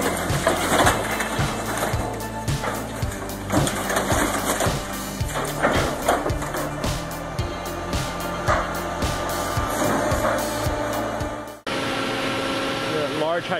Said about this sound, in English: watching a luxury car fall into the jaws of the claw, stripped, crushed, and sent off for recycling